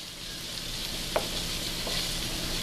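Tomatoes sautéing in a pot for chicken biryani: a steady, soft hiss of frying close by, with one faint clink partway through and no talking.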